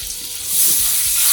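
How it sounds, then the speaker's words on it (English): Butter and cooking oil sizzling in a frying pan while Salisbury steak cooks, a bright hiss that swells louder and holds steady, with a faint stir of the pan. "just so that butter doesn't burn, I'm going to add a little bit more cooking oil"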